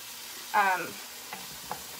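Ground turkey browns in a hot pan for green turkey chili, giving a soft steady sizzle. A brief scraping stir is followed by a couple of light utensil taps.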